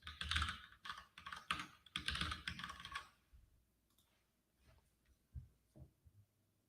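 Rapid clicking of keys on a computer keyboard as a passphrase is typed, a close burst of quick taps for about three seconds, then a few scattered faint clicks.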